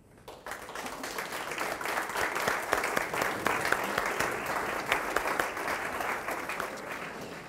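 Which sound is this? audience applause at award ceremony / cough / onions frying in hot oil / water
audience applause at award ceremony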